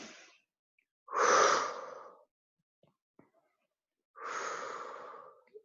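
Breaths during a yoga exercise for the low back: two strong, airy breaths several seconds apart, close and clear, with faint small sounds in the quiet between them.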